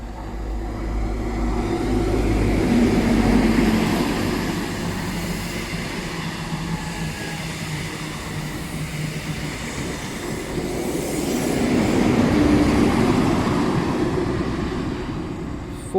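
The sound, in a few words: train passing through station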